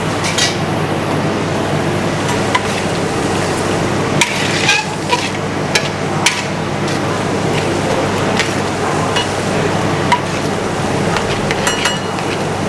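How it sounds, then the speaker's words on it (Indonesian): Black pepper beef sizzles and fries steadily in a pan, with occasional louder scrapes and clinks of a utensil stirring against the metal throughout. "Ini bakal terus kita masak sampai si dagingnya jadi panas dan mendidih"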